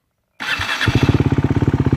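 Husqvarna Svartpilen 401 single-cylinder motorcycle fitted with a non-original aftermarket exhaust: a brief starter whir catches abruptly into a loud, close, steadily pulsing idle with rapid even thumps.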